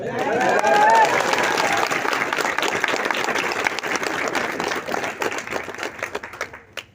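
An audience at a workshop in Udaipur breaks into dense, sustained applause that stays loud and then slowly thins and fades toward the end.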